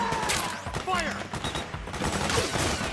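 Bursts of automatic gunfire rattle through a Metal Gear Solid 4 firefight, loud and close, with voices calling out over the shots.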